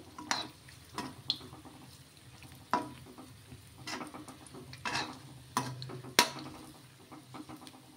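Banana bondas fry in hot oil with a soft, steady sizzle, broken by intermittent clinks and scrapes of a utensil stirring in the pan.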